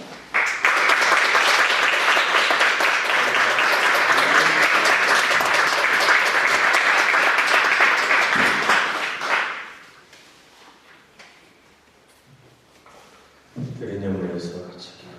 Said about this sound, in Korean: 여러분 큰 박수로 우리 김성진 목사님 맞이해 주시기 바랍니다.